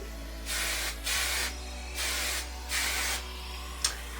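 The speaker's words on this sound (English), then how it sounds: "So just spray the top of your hair where you've back combed it." Hairspray hisses in five short bursts of about half a second each, close and steady, with brief pauses between sprays.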